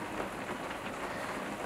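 Heavy rain pours steadily outside a parked camper van, a dense, even hiss of drops drumming on the roof and surroundings with no pauses.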